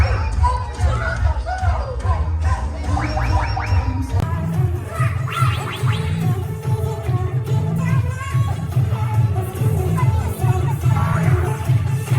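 Wedding reception guests shout and cheer loudly as a crowd, a dense steady roar of voices and whoops over heavy thumping music throughout.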